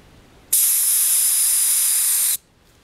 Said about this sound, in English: As you can hear, the air is being let out of the tire.